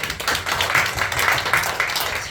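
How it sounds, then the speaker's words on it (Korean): A church congregation claps together during a Sunday morning worship service, a brief burst of fairly even, rhythmic applause heard in the room. "할렐루야, 우리 영광 하나님께 박수"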